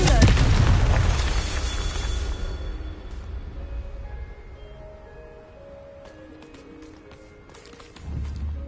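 A Confringo spell explosion in the video game Hogwarts Legacy: a heavy, close boom that decays over a few seconds into a faint crackling tail, followed by another low thump at the end.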